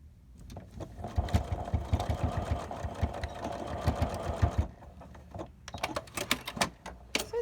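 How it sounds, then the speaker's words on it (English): Sewing machine stitching across quarter-inch ties to secure them onto a fabric face mask, a steady rapid mechanical whir for several seconds that stops, followed by a few separate clicks and taps. "I'm going to sew across here, which will keep this from sliding side to side and secure it"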